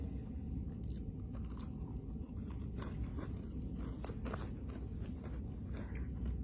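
Someone chews a crunchy Sugarbreak cookie close up, repeated crisp crunches and bites sounding over a low, steady background rumble.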